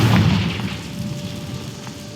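A Confringo fire spell explodes in the video game Hogwarts Legacy, a single loud, deep boom that hits at once and then rumbles away over about two seconds. No voices are heard.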